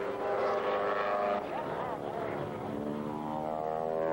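Aerobatic airplane droning steadily through maneuvers at a US air show, its engine tone rising and falling as it passes, heard under an announcer's commentary.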